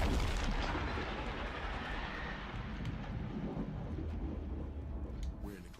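Video game gunfire with heavy booming blasts that roll continuously like artillery, loud and dense throughout with no clear gaps between shots.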